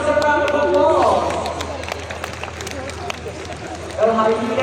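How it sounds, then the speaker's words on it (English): Group applause at a wildlife park predator show after a quiz answer, moderately loud clapping mixed with crowd babble and a voice over it, fading somewhat midway before voices return. "Let's give ourselves a round of applause."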